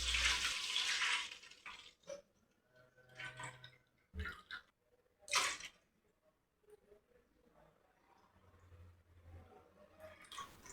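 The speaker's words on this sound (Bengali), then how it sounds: "প্রথমে আমি একটি পাত্রের মধ্যে 2 লিটার দুধ ঢেলে দিলাম।" Milk pours into a pot, two litres of it, in a splashing stream that fades off, followed by quiet clinks and handling noises with faint, gurgling bursts.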